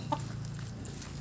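A single soft chicken cluck rises briefly over a low, steady background hum.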